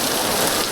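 Heavy rain falls at a Mahalakshmi temple, a loud continuous hiss of drops striking surfaces nearby, steady and even with no voices over it.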